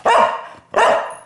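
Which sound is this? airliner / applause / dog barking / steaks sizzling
dog barking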